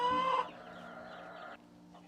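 A chicken gives a few short, close clucks, the first louder and brighter, then softer murmuring sounds trail off.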